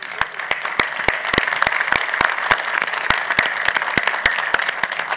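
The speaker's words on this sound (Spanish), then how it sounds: "nuevamente un aplauso para todos ustedes" Audience applause at a conference event, dense crowd clapping with a few sharp, loud nearby claps standing out in a steady run.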